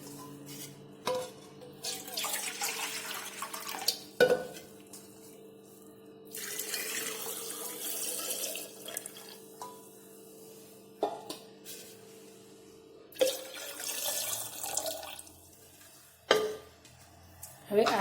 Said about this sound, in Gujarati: આપણે પાણી જેટલા આમળા ડૂબી જાય તેટલું પાણી અંદર રેડવાનું છે